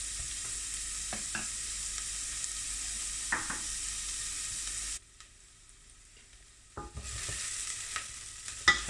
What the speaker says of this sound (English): Onions are starting to look nicely translucent.